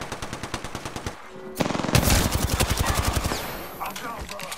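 Rapid automatic gunfire from the video game Apex Legends, loud bursts of repeated shots with a brief pause before a denser, heavier stretch of fire layered with game effects.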